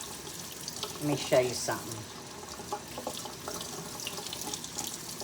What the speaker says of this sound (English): I am going to give them a good rinse.